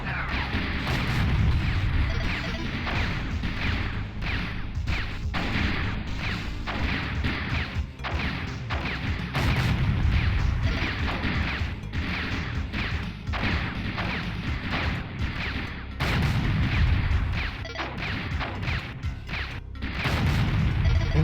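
Rockets explode over and over in a sci-fi shooter video game, a dense run of heavy booms, crashes and sharp thwacks that keep up across the whole stretch, loud and close with no clear speech.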